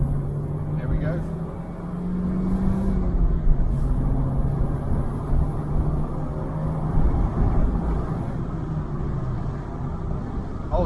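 A Vauxhall Vectra with a newly fitted exhaust drives along, giving a steady low engine drone and rumble that holds throughout with slight rises and dips in pitch.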